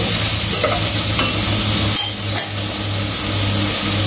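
Miswa noodles sautéing and caramelizing in a pan give a steady, close sizzle with faint scraping of stirring throughout, a continuous frying hiss with no voices over it.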